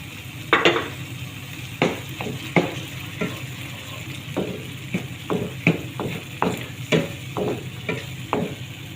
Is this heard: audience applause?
no